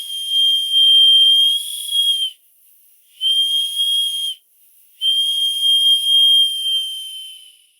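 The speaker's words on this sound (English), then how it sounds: "The whistle blows quite well," A small steam whistle on an old steam pond launch blows three times on low pressure, each a shrill, high, steady tone lasting one to two seconds, separated by short silent gaps.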